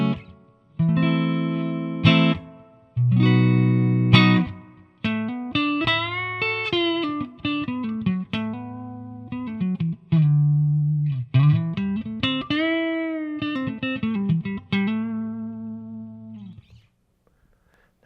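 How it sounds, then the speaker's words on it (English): A Squier Telecaster with modified neck pickup plays clean through a Marshall amp with light reverb and flat EQ, strummed chords giving way to a melodic single-note line with bends and ringing tails, close and clear. "I'm just going to play some clean neck through the Marshall, no other effects, a little bit of reverb, all EQs at noon"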